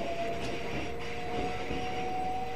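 A Class 465 electric train accelerating out of London Victoria toward Kent House in Train Simulator 2015, a loud steady rumble with a sustained motor whine throughout, no talking.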